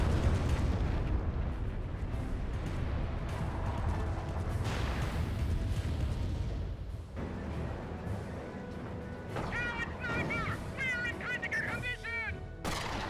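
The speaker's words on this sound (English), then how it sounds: "seems a good spot for a Calliope rocket barrage" In a Company of Heroes battle, a Calliope rocket barrage rumbles with layered explosions and blasts, continuing under a commentator's voice, with higher whistling and screeching sounds rising near the end.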